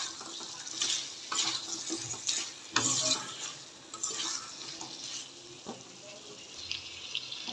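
Oil added to braised meat in a pan, with bursts of sizzling and frying crackle alongside stirring scrapes, moderately loud and close, rising and falling in uneven waves.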